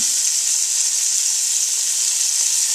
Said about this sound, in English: So keep these moving. Get a nice sear on them.